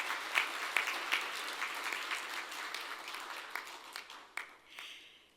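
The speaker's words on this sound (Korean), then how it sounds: "다시 한번 따뜻한 박수 부탁드리겠습니다." An audience applauds at the Samsung Ho-Am Prize award ceremony, a warm burst of clapping that thins and fades out over a few seconds.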